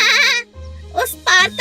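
A goat bleats in short, wavering calls, loud and close, with two separate bleats split by a brief pause and a low hum.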